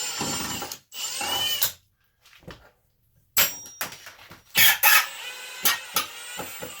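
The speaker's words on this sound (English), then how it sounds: "Wow, they put a lot of screws in this thing." A power drill backs screws out of a tiny home's bathroom ceiling in short, stop-start whirring bursts with ratcheting clicks and gaps of near silence between them.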